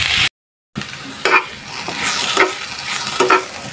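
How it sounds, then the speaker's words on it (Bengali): Okra bhindi bhaji stir-frying in a pan, with a steady sizzle and repeated scraping stirs every second or so, close and moderately loud; a brief dropout early on. "আস্তে আস্তে ভেন্ডি ভাজিটা করেনি"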